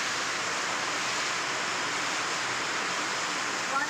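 Heavy rainwater rushing and flowing in a village after a downpour, a steady broadband wash that stays loud and unchanging throughout, with no talk over it.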